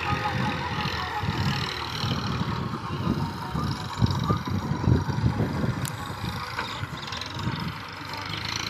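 Massey Ferguson 1035 DI 35 hp tractor pulling a ten-tine cultivator in low gear in a field, its diesel engine chugging steadily and continuously at a working load throughout.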